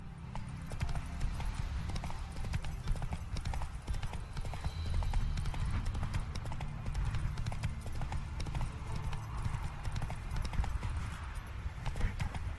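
Hooves clip-clop in a steady, continuous rhythm throughout, fairly close, with no talking over them, from a horse in the video game The Witcher 3.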